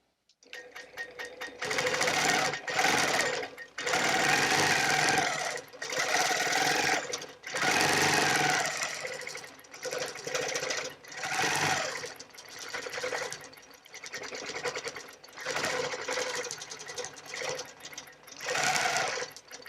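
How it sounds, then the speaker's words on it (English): Sewing machine stitching quilt fabric in repeated bursts of steady running, each lasting a second or two with brief pauses between, close and fairly loud with no talking. "now when I sew this one, I'm going to take it up and around, and I'm going to stop here"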